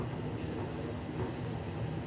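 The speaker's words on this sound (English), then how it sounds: "Seriously, the Yanchep train's already here?" A Yanchep line train at Perth station gives a steady low rumble of rolling rail cars, moderate and continuous, with no talk.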